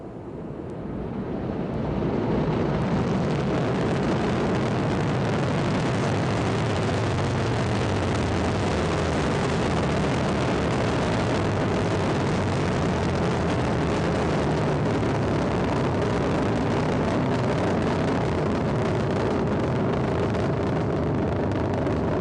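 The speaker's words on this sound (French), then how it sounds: "Allumage Vulcain. Allumage des étages d'accélération à poudre et décollage." An Ariane 5 rocket launches as the Vulcain main engine and solid boosters ignite: a broad, steady roar that swells in the first seconds and then holds loud and continuous.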